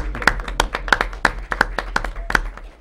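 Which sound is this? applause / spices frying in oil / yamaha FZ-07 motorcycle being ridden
applause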